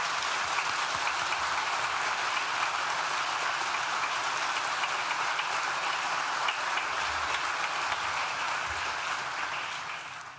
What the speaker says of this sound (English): So I wonder if we could just give them a round of applause as well, please.